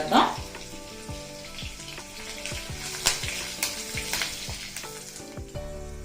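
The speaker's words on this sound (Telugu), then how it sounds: "కొంచెం దోరగా వేగనిచ్చి కరివేపాకు" Curry leaves fry in hot oil in a pan for a moong dal pongal tempering, crackling and sizzling steadily throughout with occasional spatula scrapes and clinks, close and fairly loud.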